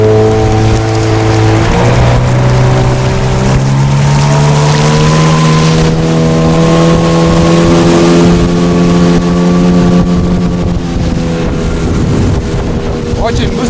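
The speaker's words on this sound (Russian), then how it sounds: "мотор вообще жесть. Как хорошо идет." A boat with a Mikatsu 9.8 outboard motor runs fast, its engine whining loudly and steadily with pitch gradually climbing, under heavy wind rush against the microphone.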